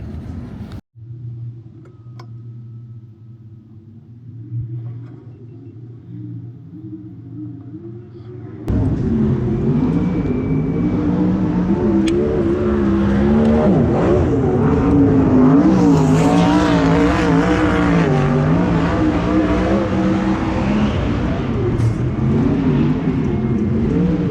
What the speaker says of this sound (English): into qualifying with USAC CRA 410 non-wing sprint cars